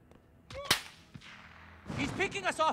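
Sniper rifle shots in the Call of Duty: Modern Warfare shooter game, a couple of sharp cracks early on followed by echoing tail, then a rumbling burst of combat noise, with a voice murmuring briefly in between.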